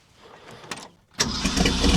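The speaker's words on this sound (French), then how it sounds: "je te propose, si tu veux bien, c'est qu'on démarre ta voiture" A 1965 Ford Mustang fastback V8 cranks briefly, pauses, then fires up and settles into a loud, close, rumbling idle.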